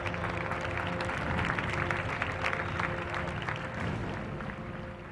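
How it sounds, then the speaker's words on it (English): An audience at a campus sports and cultural meet applauds steadily for several seconds, a dense even wash of clapping heard at moderate distance with no voices over it. "Give a huge round of applause to this wheel wizard."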